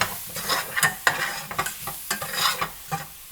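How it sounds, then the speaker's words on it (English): Sage leaves are stirred into hot leeks in a pan just taken off the heat, with quick, close scraping strokes over a soft, continuous sizzle. "We're gonna throw in this sage. Give this a little stir."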